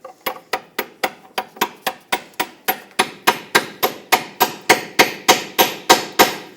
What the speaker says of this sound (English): hammer a 21mm socket right over that mounting nut